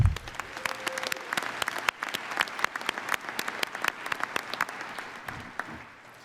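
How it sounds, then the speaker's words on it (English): Applause at a university commencement ceremony in Prescott, a dense crowd clapping steadily and loudly in a large space for several seconds, with the sound thinning slightly toward the end. "Let's have one more round of applause for all of our friends"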